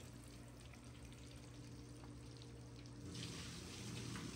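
Trout sizzles and crackles in hot oil, a faint, steady frying hiss that grows a little busier partway through, with no talk.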